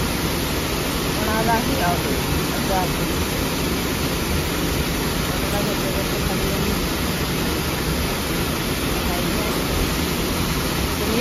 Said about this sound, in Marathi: एवढ्या धबधब्याचा आवाज आहे तर माझा आवाज तुम्हाला येणार नाही जास्त.